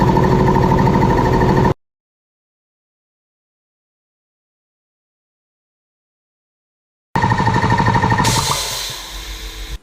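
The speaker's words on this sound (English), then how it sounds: "let's see how quick it fills up with both compressors and if they turn on together without blowing anything" Two air compressors running together while filling a tank, a loud steady mechanical drone at close range that cuts out abruptly, falls silent for several seconds, then restarts and tapers off toward the end.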